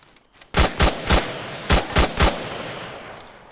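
Two bursts of three sharp 5.56 rifle shots from the ArmA 3 video game, fired at a plaster-covered stone house, loud and close with a brief pause between the bursts and a reverberant tail after each shot; nobody talks.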